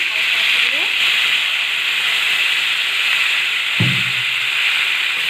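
Water poured onto hot sautéed vegetables makes a loud, continuous hiss and steaming sizzle that fills the whole moment, close and steady, with a brief clatter near the end and no talk.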